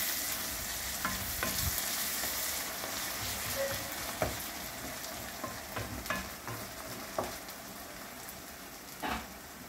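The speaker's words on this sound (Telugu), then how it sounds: "కొంచెం అల్లం వెల్లుల్లిపాయ పేస్ట్, ఒకసారి కొంచెం మగ్గనిచ్చి పచ్చివాసన కోసం" Ginger garlic paste fries in a pan with a soft, steady sizzle, while scattered clicks and scrapes of stirring come through at close range at a fairly low level.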